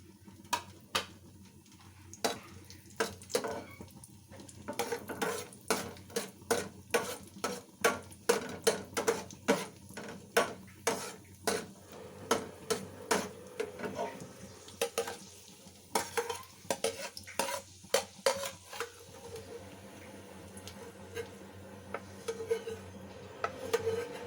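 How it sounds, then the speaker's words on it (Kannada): Raisins frying in ghee in a pan for moong dal payasa, with repeated sharp clicks and scrapes of a spoon stirring against the metal over a soft steady sizzle, close and fairly loud, no voices. "ಇದೇ ತುಪ್ಪಕ್ಕೆ ಮತ್ತು ದ್ರಾಕ್ಷಿ ಕೂಡ ಹಾಕ್ಕೊತಾ ಇದ್ದೀನಿ."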